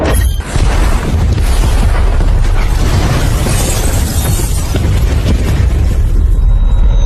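A loud, sustained explosion from an action film fills the whole stretch, a deep rumbling roar with crackling, shattering debris throughout, close and overpowering from start to finish.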